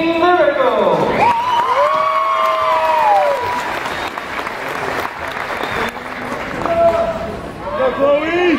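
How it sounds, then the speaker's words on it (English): An audience applauds and cheers for a performer named Mini Miracle, with loud sustained clapping, whoops and shouts, and voices calling over the crowd throughout. "A round of applause for Mini Miracle!"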